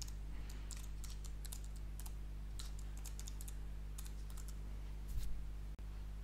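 Someone types on a computer keyboard, entering a recipe name in quick bursts of close, crisp key clicks with short pauses between.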